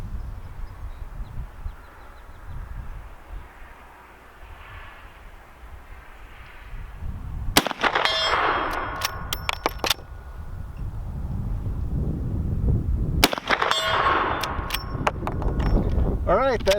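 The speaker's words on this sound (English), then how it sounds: "That's 20 shots with the Henry Big Boy." Two sharp, loud gunshots from a Henry Big Boy .44 Magnum lever-action rifle fired offhand outdoors at a range, each followed by a ringing decay, set against steady wind and background noise.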